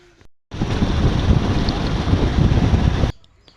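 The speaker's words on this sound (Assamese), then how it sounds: "হঠাৎ আহি গ'ল বতাহ বৰষুণ" A sudden wind and rainstorm on a roadside at night roars loudly and steadily for about two and a half seconds, a broad rushing blast of wind buffeting the microphone, then cuts back to quieter background.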